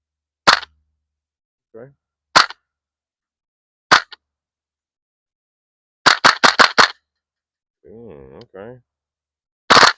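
An APFG MPX K gas airsoft gun fires sharp, loud cracks: single shots spaced apart, then a rapid burst of five or six, with brief speech between volleys.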